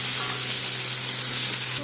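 Tomato, onion and green chili fry in a pan with spices, giving a steady, loud, close sizzle with faint stirring and no talk.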